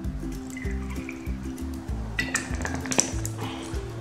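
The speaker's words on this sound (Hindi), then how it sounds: "इन दोनों के अंदर मैं पोर करूंगा थोड़ी थोड़ी विस्की" Whisky poured in small splashes into two shot glasses, a soft liquid trickle and drip running for a few seconds over a low steady hum, with a couple of faint glassy pings near the end.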